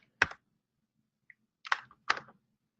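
A few sparse keyboard clicks, three or four keystrokes close by with quiet gaps between them.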